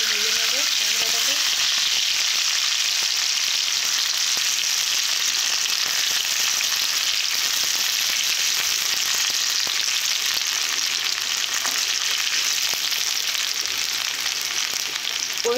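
Chopped tomato frying in hot oil in a kadai for a Bengali potato and taro curry, a loud, continuous sizzle that stays even and unbroken for the full stretch with no talking.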